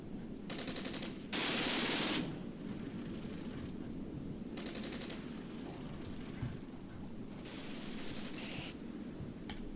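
Gunfire from an enemy vehicle rakes a machine gun team in the Armored Brigade war game, with bursts of automatic fire and distant shots over a steady rumbling battle background, one burst louder than the rest.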